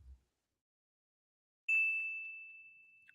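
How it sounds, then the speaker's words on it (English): Small bell gives a single clear ding after silence, ringing out and slowly fading, then a faint second tap. "You got a little ding there, a little bell."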